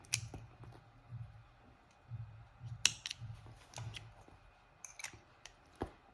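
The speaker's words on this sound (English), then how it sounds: "and then cut the yarn." Scissors cutting yarn during a crochet project, heard as a few sharp snips and small clicks spread over several seconds, quiet and close, with soft handling noise between them.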